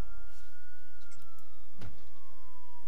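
Ambulance siren in the city-building game SimCity 5, a steady wailing tone with a slow gentle pitch drift running the whole time at moderate level, with faint game clicks beneath and no talking.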